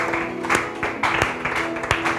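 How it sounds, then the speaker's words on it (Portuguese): Church congregation clapping along during a Portuguese worship service, steady rhythmic claps about every third of a second, fairly close, with a sustained tonal background from music or voices. "Podemos aplaudir o nosso Senhor."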